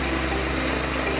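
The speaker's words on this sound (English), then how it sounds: "Then forcefully pull the rope pulley to start the engine." A BISON four-wheel-drive multifunctional mini tractor's diesel engine idles steadily, a close, continuous low mechanical drone with even vibration and no speech.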